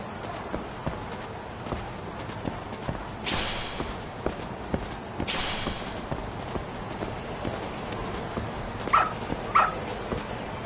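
A dog in the video game Lost Judgment gives small yips and soft whimpering whines, interspersed with light pattering steps and two brief hissing bursts, at moderate level with no talk.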